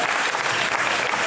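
Sustained, dense applause from a crowd at a youth running race awards ceremony, steady and loud throughout with no pauses.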